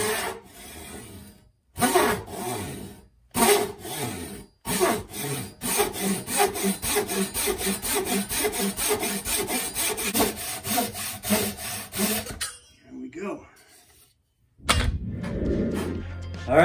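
A rasp or file works back and forth over a wooden axe handle near the head, a fast run of rhythmic scraping strokes with brief pauses between bursts, close and alone.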